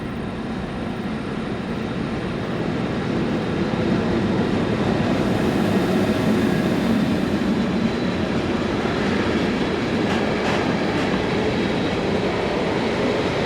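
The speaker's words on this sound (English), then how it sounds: "Running immediately behind the three previous locos was locally based 1063033 on a short engineer's train." Locally based locomotive 1063033 hauls a short engineer's train past, a steady loud rumble of engine and rolling wheels lasting throughout, with faint wheel clatter and a brief squeal near the end.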